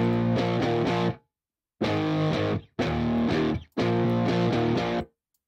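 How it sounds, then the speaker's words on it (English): Distorted electric guitar chugging low power chords in a riff, four thick, heavy bursts separated by short silences, loud and up front with no voices. "like lower power chords on the guitar, just to thicken it up."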